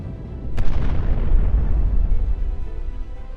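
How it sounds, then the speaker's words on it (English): A loud boom, like an explosion, is caught on a phone recording of mysterious sky sounds. It bursts sharply near the start and then rolls into a long, deep rumble that slowly fades. "strange sounds in the sky that resembled successive explosions or gunshots"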